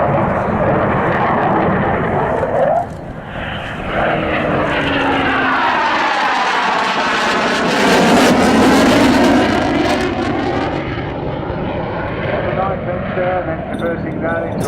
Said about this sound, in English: The aircraft is flying to 35.